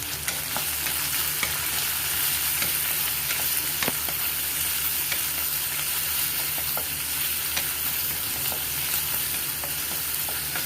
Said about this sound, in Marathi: कांदा मस्तपैकी आपल्याला तेलामध्ये असा भा परतून घ्यायचा